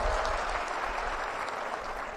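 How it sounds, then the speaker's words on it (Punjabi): A crowd at a political gathering in Punjab breaks into continuous, dense applause, steady and fairly loud, with no voices rising above it. "ਤਾੜੀ ਮਾਰ ਕੇ ਸਾਡੀ ਟੀਮ ਦਾ ਹੌਸਲਾ ਵਧਾ ਦਿਓ"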